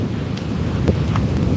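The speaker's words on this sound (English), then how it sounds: "this rain is crazy" Heavy rain falling outdoors in a downpour, a steady dense wash of noise with light gusts of wind buffeting the microphone, no voices.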